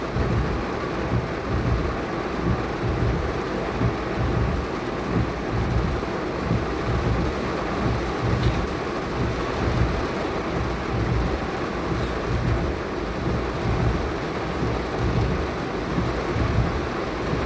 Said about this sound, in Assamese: ধাৰাসাৰ বৰষুণে স্পৰ্শ কৰিছে।